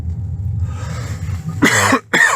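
A single loud, close cough bursts out, then a second short cough follows after a brief pause, with a low hum beforehand.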